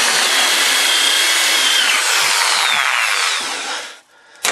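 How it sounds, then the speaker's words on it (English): A drill with a spade bit bores a hole in wood for a greenhouse seed rack, making a loud, continuous high-pitched whirring and chewing sound that fades out at the end. "I get a spade bit, or a bigger drill, doesn't have to be a spade bit. I drill that hole out"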